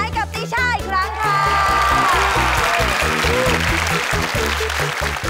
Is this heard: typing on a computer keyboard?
no